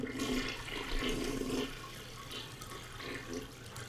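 A toilet flushes with a loud rush of water that swells, then settles into a steady draining hiss and gurgle over about four seconds, with no talking.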